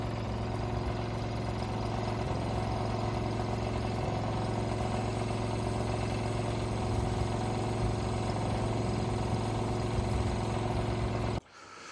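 The engine of a boomless sprayer runs at a steady idle close by, a constant mid-pitched rumble with light mechanical clatter that continues for about eleven seconds before stopping abruptly.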